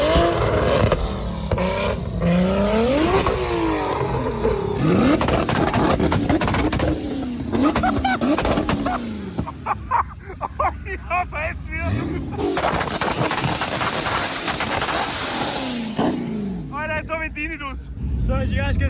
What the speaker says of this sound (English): Got an M140, 850 horsepower, all-wheel drive